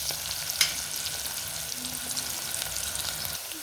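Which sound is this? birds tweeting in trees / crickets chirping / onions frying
onions frying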